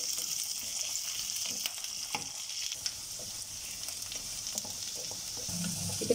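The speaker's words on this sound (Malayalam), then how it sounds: "ഇനി നമുക്കിതിലേക്ക് വേപ്പില് ചേർത്ത് കൊടുക്കാം" Curry leaves hiss and crackle in hot oil during garlic pickle cooking, a steady close sizzle with occasional stirring scrapes and pops, no voices.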